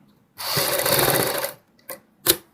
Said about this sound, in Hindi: ऐसे ऊपर की साइड सिलाई लगाएंगे।